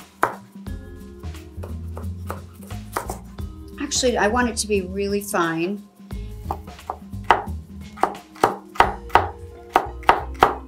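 Fresh celery chopped finely with a knife on a cutting board, a run of crisp, rhythmic close taps that speeds up toward the end. A person talks briefly in the middle.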